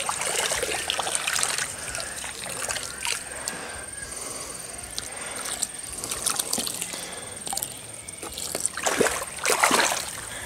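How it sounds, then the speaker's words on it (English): Water trickles and splashes steadily onto corn plants nearby, with brief louder splatters and no talking. "I'm going to water them again."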